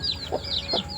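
Chicks and poultry on a turkey farm, with high chirps and peeps from young birds overlapping short, soft clucking bursts from older fowl, close and continuous with no talk.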